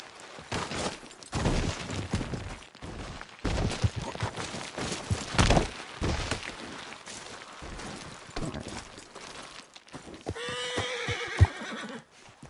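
A horse in Red Dead Redemption 2 galloping with rhythmic hoofbeats and repeated whinnies, loud and close, with gunfire-like bursts mixed in.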